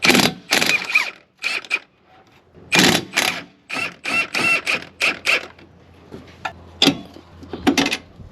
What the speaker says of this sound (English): I'm just gonna hold this steady and break this loose with the impact.